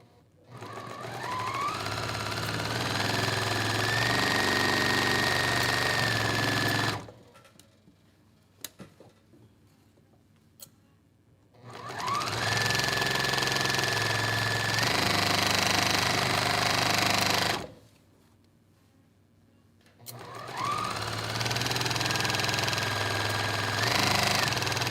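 A sewing machine sews jelly roll quilt strips in three long runs of rapid, steady mechanical whirring and clatter, close by. Short quiet pauses with faint handling sounds separate the runs, and no one speaks.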